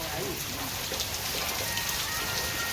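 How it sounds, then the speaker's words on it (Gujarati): Continuous monsoon rain falls near the Rupen river, a dense, even patter of drops on surfaces, moderately faint, with a brief low voice in the background. "કન્ટિન્યુ વરસાદ"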